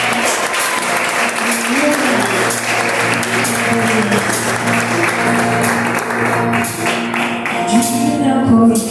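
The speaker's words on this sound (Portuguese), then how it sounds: "Você pode aplaudir a Jesus?" A church congregation applauds during a worship service, steady loud clapping blended with music and voices, continuing throughout.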